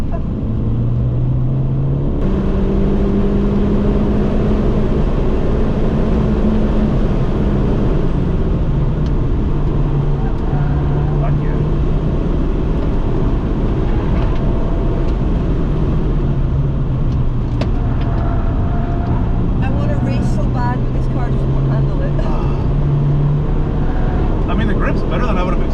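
Mini Challenge Clubsport race car lapping Knockhill circuit, its loud engine heard from inside the cabin rising and falling in pitch through gear changes and corners, with people talking over it.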